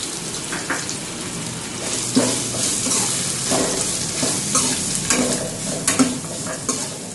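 Grated coconut and curry leaves stir-fried in a pan for coconut rice, a steady sizzle broken by repeated scraping stirs of a spoon against the pan, close and moderately loud.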